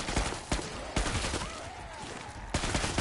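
Repeated gunfire from a weapon in the video game Killing Floor 2 on PS4, loud sharp shots at an uneven rhythm, some in quick bursts with pauses between, over a busy background of in-game noise.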